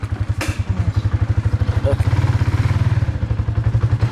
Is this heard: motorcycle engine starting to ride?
yes